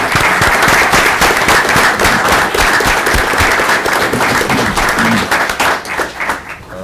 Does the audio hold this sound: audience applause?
yes